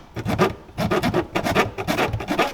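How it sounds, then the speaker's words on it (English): A hand file rasping on a car part during a manual transmission swap, quick repeated rough strokes in a steady back-and-forth rhythm, close and moderately loud. "Are you filing?"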